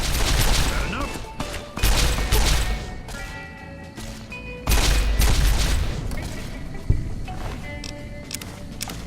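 Energy weapon fire in Fallout: New Vegas, a few heavy, bursting shots with gaps between them over a dense, noisy game soundscape, loud and close.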